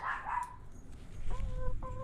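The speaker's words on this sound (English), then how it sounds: "There's a small dog next door." A small dog lets out a few short, high yips, fairly close, against a quiet room background.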